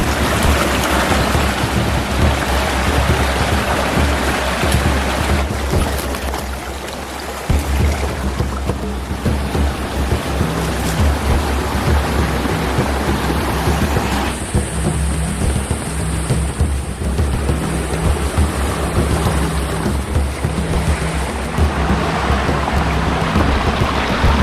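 Continuous broad rush of a river stream flowing through dense jungle during a trek along the riverbed, steady and fairly loud throughout, with no voices.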